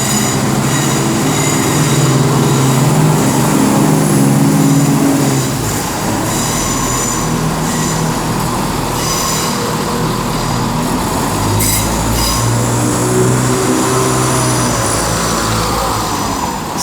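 Class 170 cross-country diesel unit 170101 pulling out of Birmingham New Street toward Nottingham, a loud, close engine rumble with rail and wheel noise that shifts as it gets under way, steady for the whole stretch.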